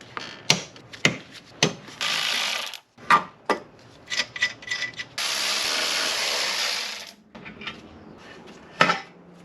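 A ratchet clicks in quick bursts while bolts come off a bar on a BMW X5 4.8i N62 engine, with longer steady ratcheting runs between short metallic clinks of tools and parts, close and clear, with no talking.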